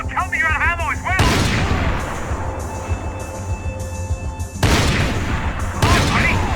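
Gunfire in Max Payne 3 crackles in dense bursts with several loud booming volleys, sharp shots punctuating a busy combat din.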